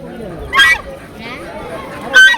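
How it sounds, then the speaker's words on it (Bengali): A Chinese goose at an old traditional riverside village market in Gobindashi, Tangail gives two short, harsh honks close by, heard over people talking and general market chatter. "এটা কি চিনা হাঁস"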